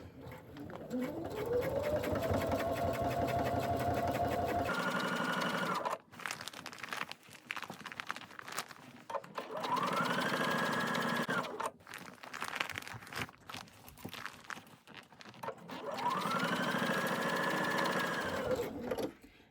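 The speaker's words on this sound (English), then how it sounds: "So I'm going to sew over my initial stitches, and then I'm going to back stitch to secure both ends." A sewing machine stitches the side seam of a fabric travel pouch in three bursts, each speeding up to a steady close whir and then stopping, with quiet rustling and fabric handling in the pauses.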